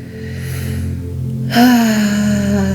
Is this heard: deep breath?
yes